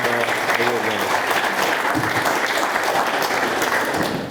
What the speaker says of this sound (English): Let's give a round of applause for our defensive players of the year and award winners.